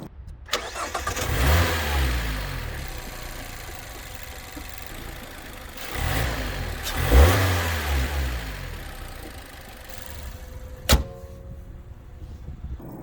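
A Mazda MX-5 ND with a 2.0 Skyactiv-G inline-four and six-speed manual revs twice in strong, rising bursts that fall back to a steady idle, followed by a sharp, brief exhaust pop near the end.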